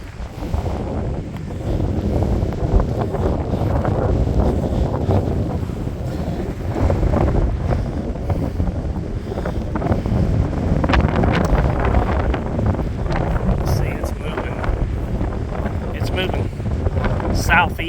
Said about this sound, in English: The wind's really picked up here. See the wind blowing.